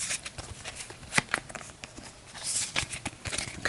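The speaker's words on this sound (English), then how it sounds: "we'll give the turn order deck a shuffle" A turn order card deck for a board game is shuffled close by, giving a run of soft, irregular card flicks and taps at low level.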